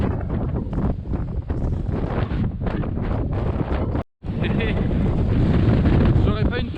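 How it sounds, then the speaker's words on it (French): Rising wind on the Breton cliffs buffets the microphone in a loud, continuous roar with gusty surges and a brief dropout midway. "Le vent commence à se lever."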